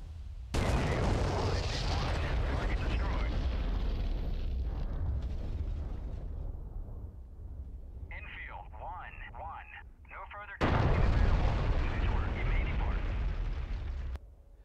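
A GBU-31 penetration bomb dropped from an A-10C II in the DCS World flight game strikes its target, producing a long, loud roaring blast, a quieter stretch with a voice, then a second heavy burst of rumbling detonation.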